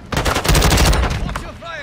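A loud, close burst of rapid automatic gunfire in a military shooter video game lasts about a second and a half, then trails off into a brief echoing tail.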